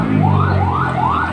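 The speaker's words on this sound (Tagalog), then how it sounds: "Ito na po yata yung ambulansya." An ambulance's wailing siren sweeps up and down in repeated rising cycles, loud and close over a rumbling engine, in Manila.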